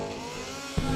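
Superbike motorcycle launching at a drag race, a steady engine drone that breaks into a sudden louder rasp near the end of a brief moment.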